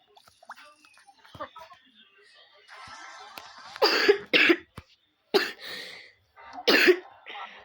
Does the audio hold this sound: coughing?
yes